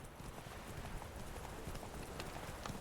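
Roach, Geralt's horse in The Witcher 3: Wild Hunt, gallops with a steady, rapid clip-clop of hooves, fairly quiet and continuous throughout, with faint game ambience behind.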